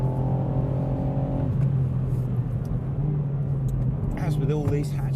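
Hot hatchback engine, one of a Toyota GR Yaris, Ford Fiesta ST, Honda Civic Type R or VW Golf GTI, droning steadily at high revs through a fast lap on a slightly greasy track, loud and continuous with a shifting pitch near the end.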